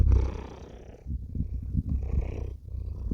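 A pet cat lying close beside someone painting purrs softly, a low rumbling rhythm of breaths in and out, faint and near with no other sounds.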